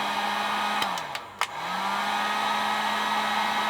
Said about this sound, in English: I'm gonna hit these connectors with the temp heat gun real quick.